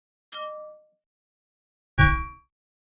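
Two separate synthetic metallic blade rings for a cold-weapon sound effect: a bright high-pitched ping first, then a lower, fuller clang a moment later, each decaying quickly into silence.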